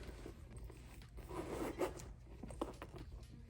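A zipper runs along the outside pocket of a silver crossbody travel bag, a quiet, close-up scratchy rasp with a few brief tugs, heard alone without speech.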